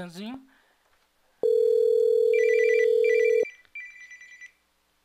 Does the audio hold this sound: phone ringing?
yes